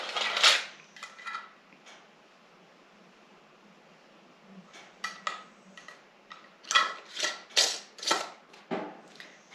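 Metal bands and lids going onto wide mouth glass canning jars for home pressure canning: a series of light clinks and scraping metallic taps, scattered at first, then a quicker cluster of close clicks and twisting sounds.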